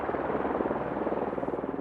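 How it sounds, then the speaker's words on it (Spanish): A helicopter landing at a heliport in Tokyo, its steady, loud rotor chop and turbine roar filling the whole stretch without letting up. "el helicóptero de Wilhelm tiene permiso para aterrizar"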